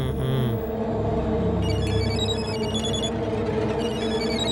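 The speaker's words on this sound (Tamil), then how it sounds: "ஏய் மச்சி, ஃபோன் அடிக்கிறா." A telephone rings indoors with a steady electronic ringtone that repeats in bright pulses, loud and close, while a low background rumble continues underneath.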